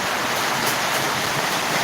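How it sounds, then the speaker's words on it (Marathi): A rainwater stream flows after an hour of rain near a temple, a steady, dense rushing wash of water with no pauses, fairly close and loud. "गेले एक तास पाऊस पडत आहे पाण्याचा लोट वाहत आहे"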